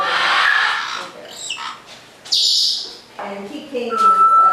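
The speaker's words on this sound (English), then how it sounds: "Cindy's the African grey. No, Cindy's the green lady. Big bird" A green pet parrot gives loud, close chirps and squawks in several separate bursts, with rubbing noises between calls.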